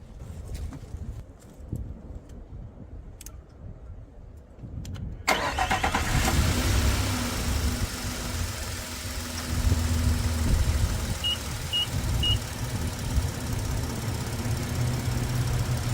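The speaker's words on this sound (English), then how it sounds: "So let's start the vehicle up." Car engine cranking and catching, then settling into a steady idle, close and continuous, after a quiet stretch of faint ambient noise at the start.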